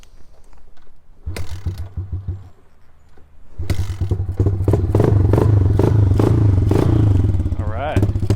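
An old motorcycle on stale fuel sputters to life after a quiet start, its engine firing in an uneven, lumpy rhythm and then settling into a loud, rough running clatter, close by, with a voice talking over part of it.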